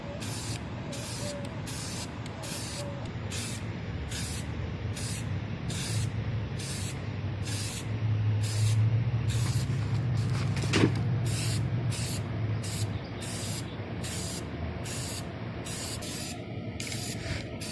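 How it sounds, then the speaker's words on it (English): Repeated short bursts of aerosol spray paint hiss from a spray can onto a toy Thomas the Tank Engine whistle in a steady rhythm, loud and close, over a low background rumble. "while I'm spray painting this"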